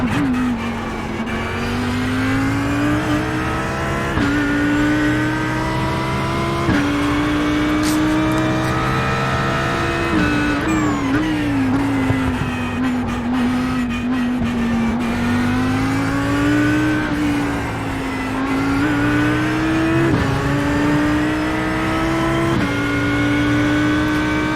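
Audi GT3 race car in the iRacing sim at Oulton Park, its engine droning loud and steady throughout, pitch rising and falling with gear changes, acceleration and braking through corners, with occasional tire noise.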